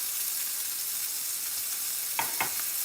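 A skillet over low heat gives off a soft, steady sizzle as its contents begin to melt, with a couple of brief clicks near the end.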